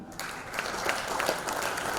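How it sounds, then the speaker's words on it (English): Audience applause at a women-in-supply-chain and logistics conference, a steady burst of clapping from a crowd with no talking, continuing throughout. "Come on everyone, please put your hands together for Kusum"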